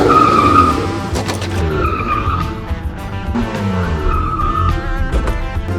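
A BMW skids through a handbrake turn, its tyres squealing in sustained, wavering screeches over a rough engine and road roar, loud and close for several seconds.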